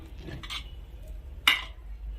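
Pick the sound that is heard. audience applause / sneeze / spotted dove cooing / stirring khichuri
stirring khichuri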